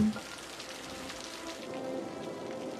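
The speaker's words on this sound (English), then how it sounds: "here we are, it's raining" Rain falling in a tropical city in Cities: Skylines, a steady soft hiss of drops on surfaces that runs evenly through the moment with no talk over it.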